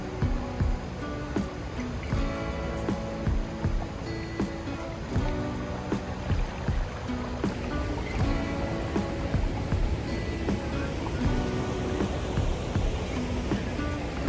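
A waterfall and river in Ratnapura district, Sri Lanka, give a steady broadband rush of flowing water at constant loudness, with scattered low knocks and no talk.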